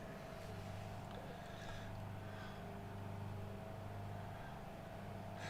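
Steady, continuous engine drone heard from outside the cockpit in a flight simulator game, a low even hum and broadband rush holding at constant loudness throughout, with no talking.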